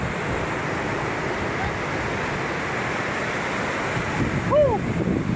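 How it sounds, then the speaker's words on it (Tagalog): Big sea waves roar in a constant heavy rush under strong wind buffeting the microphone on a coastal shore during a northeast monsoon gust, loud and unbroken, with a brief faint vocal sound near the end. "Malaking alon"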